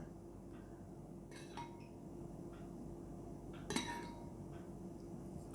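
A spoon clinks against a bowl while milk is stirred, with a few quiet scattered taps and one brighter clink over low background hum, no talking.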